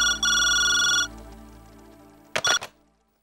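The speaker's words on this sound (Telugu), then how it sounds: "భాను, వికాస్ ఫోన్." A mobile phone ringtone sounds in a Telugu TV serial home scene, one sustained electronic melody for about a second, then a short second burst after a lingering echo, with no voices.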